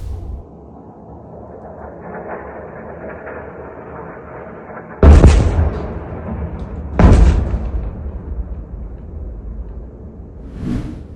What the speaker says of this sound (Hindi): रात के अंधेरे में एज यूजुअल इजराइल ने गाजा पर बमबारी की है, जिसके बहुत लिमिटेड मंजर मैं आपको दिखा रहा हूं